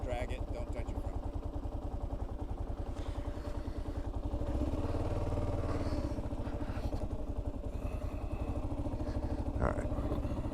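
Kawasaki KLR 650 motorcycle on the road, its single-cylinder engine thrumming steadily with a dense, continuous low rumble and a brief swell partway through, a voice talking over it.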